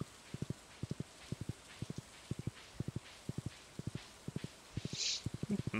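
Horse hooves clip-clop in the Stardew Valley farming game: quick paired and tripled taps repeat at a steady trotting rhythm, fairly close and clear over a soft ambient bed.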